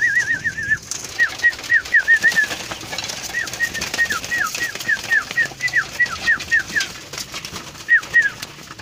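Pigeons in a loft make repeated soft cooing calls through the whole stretch, with occasional wing flaps and shuffling nearby, no talk.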